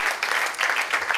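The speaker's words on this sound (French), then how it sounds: "Je veux qu'on applaudisse à notre sœur Caroline pour la remercier." Church congregation applauding together, a steady dense wash of many hands clapping throughout without pause, moderately loud and close.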